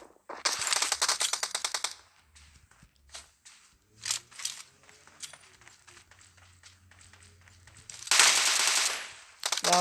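Rapid bursts of automatic gunfire in the mobile battle royale game PUBG Mobile, with long sustained volleys at the start and end and scattered single shots and clicks between them.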